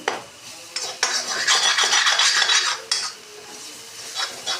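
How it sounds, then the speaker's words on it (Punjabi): A ladle scraping and chopping besan bhurji into small pieces in a pan, with bursts of metallic scraping and clinking against a faint sizzle, and no voices. "ਇਹਦੇ ਨਾਲ ਕੜਛੀ ਦੀ ਸਹਾਇਤਾ ਨਾਲ ਕੱਟ ਕੇ ਨਾ ਛੋਟੇ ਛੋਟੇ ਕਰ ਲਾਂ"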